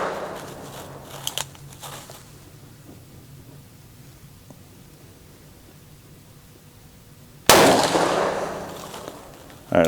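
Shots from a short-barrel revolver fired on a range: a sharp crack near the start, then a loud, broad blast about three-quarters through with a long ringing decay, and another burst at the very end.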